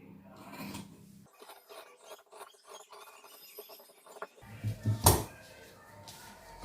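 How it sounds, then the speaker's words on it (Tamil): Scissors cut through blouse fabric on a tailoring table in short rasping strokes, with a louder burst of cutting and rustling near the end; the room is otherwise quiet. "சார்ட்டை எடுத்துட்டு நான் அப்படியே கட் பண்ணிக்கிறேன்."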